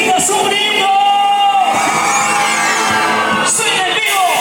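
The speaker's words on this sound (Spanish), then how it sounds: "Chicas, chicas, un grito." A concert crowd of women at a live show in Huancayo, Peru, screams, whoops and cheers loudly and continuously, a dense wall of high-pitched shouting with a few sharper yells rising above it.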